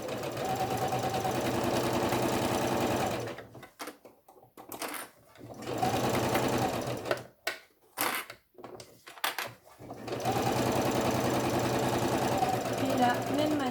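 Sewing machine stitching a fabric face mask, its motor whirring in steady runs that stop and start as the presser foot is lifted, with someone talking through the pauses.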